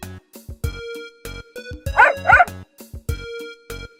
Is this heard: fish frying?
no